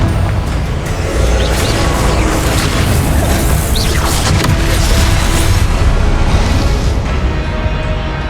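Continuous loud explosive blasts from the Confringo spell in Hogwarts Legacy, dense booming and crashing bursts layered over each other for several seconds with rumbling low end and no pause.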